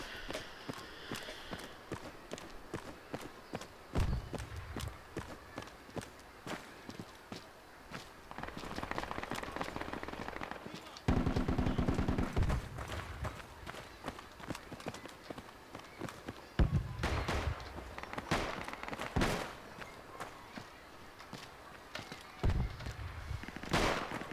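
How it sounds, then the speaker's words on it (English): Sporadic gunfire pops in the video game Project Reality on a Gaza beach map, scattered sharp reports with distant shots between them, alongside footsteps, movement noise and occasional voices. "Yeah, they're shooting at us for some reason."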